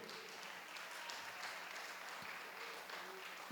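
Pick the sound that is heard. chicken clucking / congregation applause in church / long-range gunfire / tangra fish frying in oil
congregation applause in church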